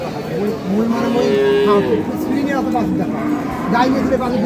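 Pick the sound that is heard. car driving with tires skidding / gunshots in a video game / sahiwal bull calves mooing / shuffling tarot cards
sahiwal bull calves mooing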